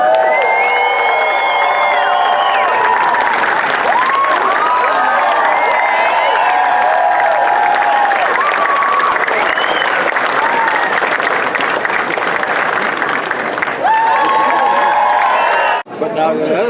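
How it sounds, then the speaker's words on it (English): A Boston audience erupts in loud sustained applause mixed with cheering and whoops, a dense roaring crowd with raised voices throughout that cuts off abruptly near the end. "If we pull this off, give us a real Boston round of applause."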